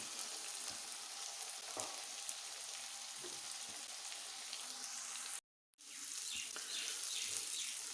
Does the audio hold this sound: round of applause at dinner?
no